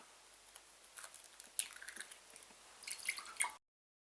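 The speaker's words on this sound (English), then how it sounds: "mix together 1 medium egg" An egg and milk are mixed in a bowl for cheese scones, making soft, wet squishing and dripping sounds at close range that grow busier toward the end before cutting off.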